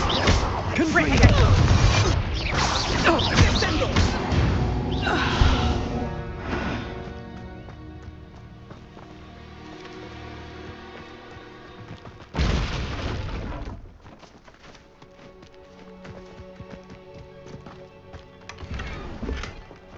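A Confringo spell blast explodes in the Hogwarts Legacy video game, a loud burst with a broad crash, then a second sharp blast later among ongoing game sounds and music.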